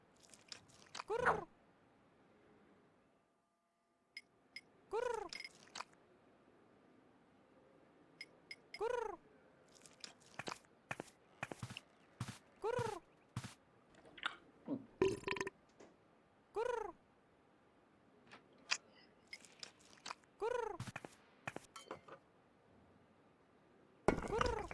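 In an Edna & Harvey adventure game, a cat eats pigeon-flavoured cat food, giving faint repeated crunchy chewing bites in short bursts spread through a quiet scene.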